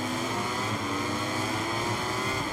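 A motorcycle engine drones at the race start in MotoGP 23, a steady, loud, continuous roar with a slowly rising tone and several bikes blending together.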